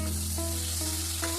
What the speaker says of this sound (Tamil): வெங்காயம் முக்கியமாக நல்ல ப்ரௌனிஷாக நல்லா வெந்து வரணும்.